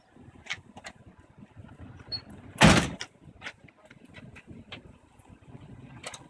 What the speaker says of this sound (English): Then just release your door.